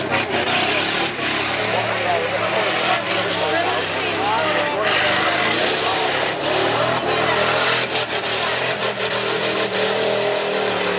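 Tuff truck engine revving on a fairground course, a loud rasping roar rising and falling across a dirt track, with people talking near the recording spot.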